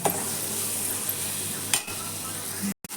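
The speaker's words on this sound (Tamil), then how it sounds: "போட்டு நல்லா வதக்கணும்." Steady sizzling as tomatoes fry in a pan, with a brief scrape of stirring partway through and a short clatter near the end.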